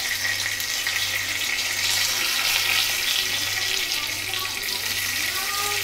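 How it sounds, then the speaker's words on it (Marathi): Bay leaf dropped into hot oil in a heated wok sizzles and hisses steadily throughout, a continuous close frying noise with no talk. "आता कढई तापली, आपण तेल घालून घेऊया. आता घालूया तेजपत्ता."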